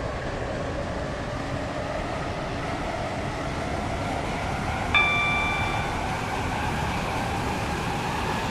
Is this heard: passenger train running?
yes